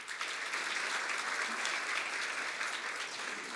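Audience applause at a formal launch ceremony welcoming guests, a steady dense round of clapping from a roomful of people, continuous and fairly near, with no voices over it.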